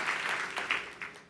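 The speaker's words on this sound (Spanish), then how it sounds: "denle un fuerte aplauso al Señor" Congregation at a Spanish-language church service applauding, a steady broadband wash of many hands clapping with a few louder bursts, fairly close and continuous with no talk over it.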